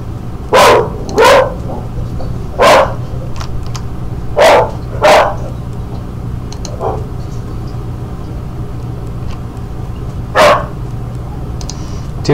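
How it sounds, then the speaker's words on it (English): Dogs bark in a loose series of about seven sharp, fairly loud yelps, mostly paired early on, then a lone bark after a long gap, all over a steady low indoor hum. "Sorry for the dogs."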